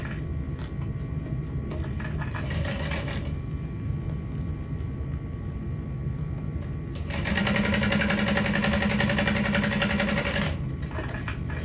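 A sewing machine top stitching a vinyl backpack runs steadily in close, continuous bursts, pausing briefly and then speeding up to a louder, faster whir.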